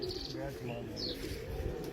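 Pigeons kept on a rooftop loft coo softly and chirp, low and somewhat muffled, with background voices and murmur mixed throughout.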